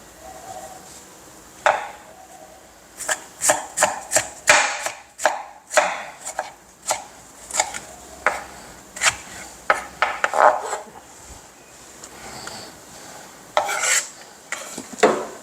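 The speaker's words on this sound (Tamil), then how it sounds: "தக்காளியை நம்ம ஸ்லைஸ் பண்ணிக்கலாம் பாதி போட்டால் போதும்" Tomatoes being sliced in half with a knife on a board for a meat white kurma, sharp close chopping thuds coming in irregular bursts with short pauses between them.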